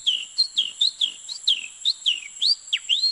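A young man of the Amazon forest whistles imitations of bird songs, a rapid run of bright, sliding chirps and tweets repeated about every third of a second, clear and close with no talk.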